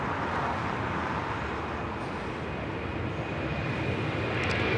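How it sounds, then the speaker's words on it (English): An Air China Cargo Boeing 747-400 freighter takes off from runway 25 right at Los Angeles airport, a steady broadband jet rumble heard from a distance, fairly faint and unbroken throughout. "This is Air China Cargo, flight 8442, taking off to Shenyang on the 747-400 freighter."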